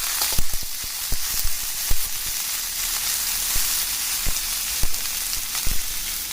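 Chop suey with imitation crab meat frying in a pan gives a steady close sizzle, punctuated by sharp pops and crackles scattered throughout, with no talking.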